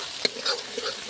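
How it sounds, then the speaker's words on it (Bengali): Ground spice paste with turmeric frying in hot oil for an egg curry, a close crackling sizzle broken by quick scraping stirs of a spatula against the pan. "এরপর মশলাটাকে আমি ভালো করে কষবো।"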